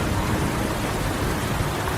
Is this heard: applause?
no